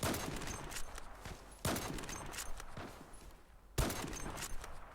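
Gunfire in the online shooter game Zula Strike: loud bursts of rapid automatic shots arriving in three volleys, with short quieter gaps and faint footsteps between them.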